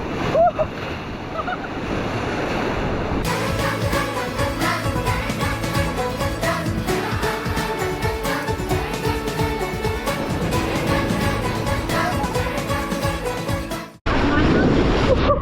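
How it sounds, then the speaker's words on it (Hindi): Fast, surging river water in Manali, a dense continuous roar with heavy wind buffeting on the microphone, loud and close throughout, broken by a brief cut near the end. "उफान देखो कैसे उफान ले रही है नदी।"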